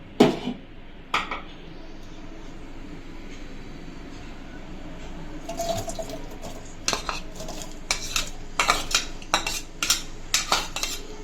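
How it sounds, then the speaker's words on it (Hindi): Onions go into hot oil in a pot for chicken korma, with a soft frying hiss and then a quickening series of metallic scrapes and clinks from stirring, close and fairly loud. "ऑयल अच्छे से गर्म हो जाए तो फिर हम इसमें जो है प्याज शामिल करते हैं।"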